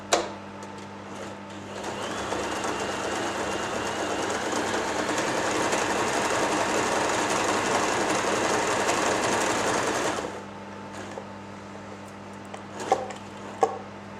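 A Janome J3-18 sewing machine stitches an overcasting stitch, its steady close whirring running for about eight seconds before stopping, with brief clicks and handling sounds afterward.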